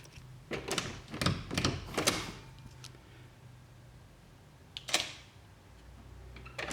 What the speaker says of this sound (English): Click unlock, it unlocks the door.